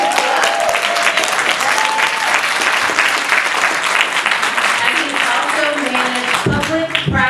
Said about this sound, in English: Yeah, y'all can clap for that.